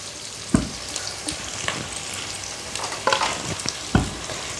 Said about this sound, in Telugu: ఆనియన్స్తో పాటు పచ్చిమిర్చి కూడా వేసేస్తున్నాను.